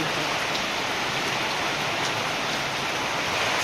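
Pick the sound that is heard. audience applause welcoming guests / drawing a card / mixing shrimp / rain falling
rain falling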